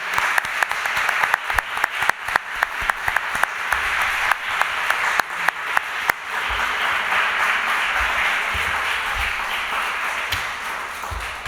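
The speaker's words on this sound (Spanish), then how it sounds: "Un gran aplauso a Valerio." An audience applauds after a talk on Verdi's La Traviata, opening with distinct, spaced claps that quickly build into dense, continuous applause that stays strong to the end.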